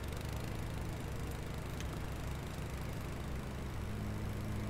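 A lawn mower runs steadily in a park, a continuous mid-distance engine drone with a faint hum that holds level throughout, no voices.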